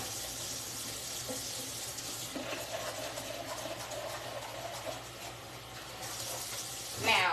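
Steady rushing of water running from a tap, continuous and fairly close, with a brief louder splash near the end.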